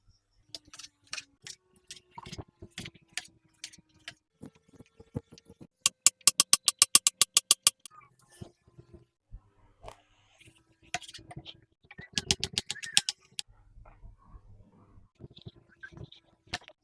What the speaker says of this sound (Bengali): সবজিটা কেটে নেব।